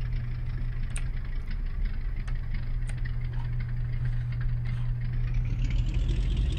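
A de Havilland Beaver's piston engine idles in the X-Plane 10 flight simulator, a steady, low, unchanging drone, a continuous rumbling hum with faint higher whine above it, no voices.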